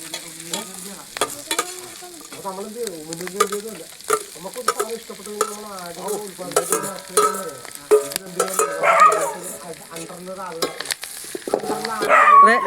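Clams frying and being stirred in a pan for a clam and tapioca dish, with a steady sizzle broken by repeated scraping strokes of a spoon, close and fairly loud.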